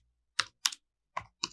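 Four crisp keystrokes on a computer keyboard while typing into an HTML page, spaced in two pairs and set against near silence.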